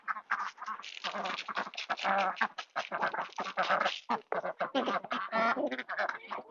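A flock of ducks quacks constantly and loudly up close, a dense, overlapping chorus of raspy calls with no pauses.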